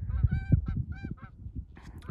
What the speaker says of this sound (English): Geese are flying everywhere